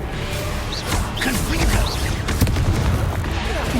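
A Confringo fire spell in Hogwarts Legacy detonates in a booming blast amid combat effects, a heavy burst with whooshing layers under busy game sound and voices.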